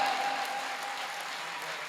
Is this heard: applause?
yes